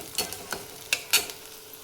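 Green chillies frying with onions in a pan, a soft sizzle with a few quick scraping stirs in short bursts, close and brief.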